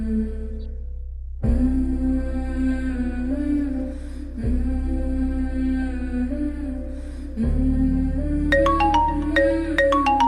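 A phone ringtone plays a repeating electronic melody in phrases a few seconds long, ending with brighter, higher chiming notes. Fairly loud and close, no talking.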